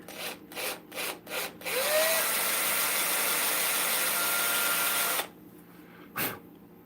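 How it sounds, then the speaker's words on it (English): A power drill whirs steadily for a few seconds drilling a hole in a wooden Christmas ornament, after some short knocks and scrapes, then stops, followed by a brief rustle. "Gotta drill a hole so we can hang it."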